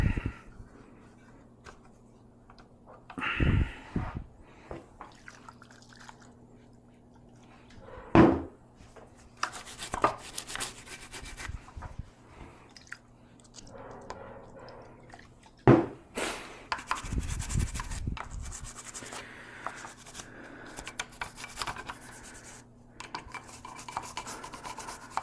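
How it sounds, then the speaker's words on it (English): Intermittent scrubbing and rubbing on metal parts of a French MAS 49/56 rifle on a workbench, with bursts of brushing and scraping spread across the stretch over a steady low background hum. "I'm just gonna scrub around here a little bit"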